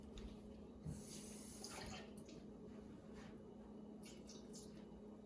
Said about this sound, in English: I'm actually going to put a little water in.